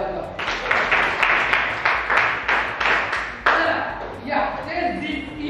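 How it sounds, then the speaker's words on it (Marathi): Applause from participants at an acting workshop, steady close hand clapping that runs for several seconds, with bursts that thin out toward the end. "याच्यासाठी टाळ्या वाजवा"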